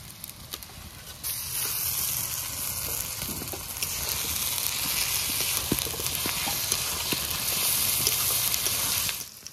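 Garlic and ginger hit hot fried onions in a pan, giving a steady, close sizzle and crackle that swells slightly as they settle, with no voices.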